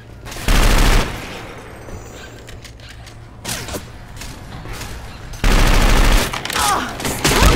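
Rapid bursts of video-game gunfire in Left 4 Dead 2, a loud volley at the start and another near the end with quieter shots between, with a man calling out briefly over the shooting.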